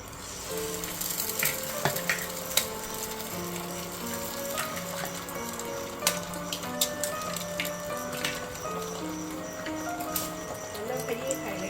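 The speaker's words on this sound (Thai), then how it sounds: "พอน้ำมันร้อนนะคะเราก็ตอกไข่ลงไป" Eggs crackle and sizzle in hot oil with a steady spitting hiss, while someone talks over the cooking and some clinking sounds in the background.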